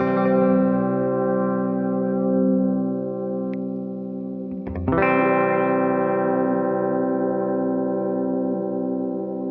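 A sustained electric guitar chord rings through a Fractal FX8 modulated delay, its pitch gently wobbling as the sweep dips low, then a fresh strum restarts the shimmering, echoing tone, loud and alone.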